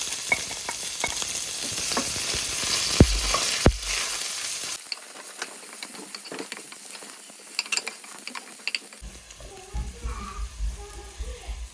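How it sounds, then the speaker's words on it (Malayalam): Curry leaves, green chili, garlic and ginger sautéed in a pan, with brisk clattering stirring strokes over sizzling oil, the frying noise dropping away partway through and leaving sparse scraping clicks, then a faint low rumble near the end. "പിന്നെ ഇതിലേക്ക് വേപ്പില പിന്നെ പച്ചമുളക് വെളുത്തുള്ളി ഇഞ്ചി കൂടെ ആഡ് ചെയ്തിട്ട് ഒന്ന് നന്നായിട്ട് ഇളക്കി വഴിച്ചെടുക്കാം"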